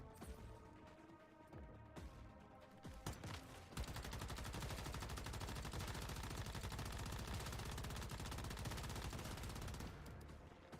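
Sustained automatic gunfire in the Once Human video game, a long dense loud burst emptying magazines into an enemy, preceded by a few scattered single shots.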